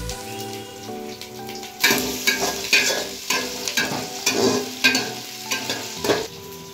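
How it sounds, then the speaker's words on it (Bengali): Sliced onions for a pulao sizzle and crackle in a hot pan, with loud bursts of frying and stirring from about two seconds on over a steady background hiss; no one speaks. "পেঁয়াজ দিচ্ছি, দুটো পেঁয়াজ দিয়েছি।"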